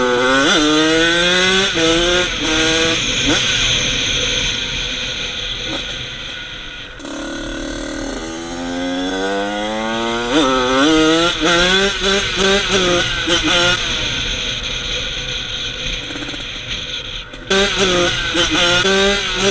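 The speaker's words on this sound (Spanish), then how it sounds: "le doy un poquito gas en bajas vueltas y hace el brrr" A two-stroke motorcycle engine running rich and blipped at low rpm keeps up a loud, continuous, burbling drone close by, its pitch rising and falling with repeated throttle revs for the whole stretch.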